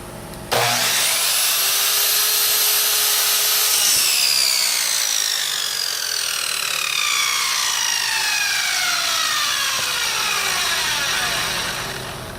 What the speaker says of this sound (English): First thing we got to do is cut the 45 angle.